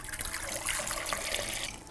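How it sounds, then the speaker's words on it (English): Room-temperature water pours steadily into a pot of potatoes for mashing, a close, continuous splashing gush with no voices. "I'm also adding some salt and room temperature water."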